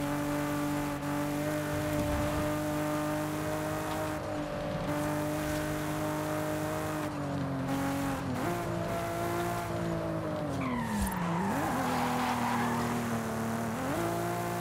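A car drifting down a winding mountain road in Forza Horizon 5, a steady engine drone that dips and climbs with shifts, then a rising tire squeal and skid as it slides through a bend.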